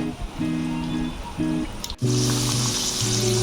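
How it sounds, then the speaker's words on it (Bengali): Ripe banana fritters frying in hot refined oil in a kadai make a steady close sizzle, swelling louder after a soft clunk as more pieces go in, with a faint tonal hum running underneath. "তেল দিলাম রিফাইন তেল গরম হয়ে গেছে আমি এই কলাগুলো দিয়ে দেব দিয়ে একটু ভালো করে ভেজে নেব"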